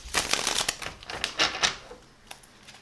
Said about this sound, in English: So we're just going to grab a couple cards.